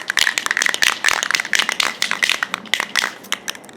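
A spray paint can shaken by hand for a coat on a Dollar Tree wall sconce, giving a fast, steady series of sharp rattling clacks from the mixing ball, close and fairly loud, with no talking.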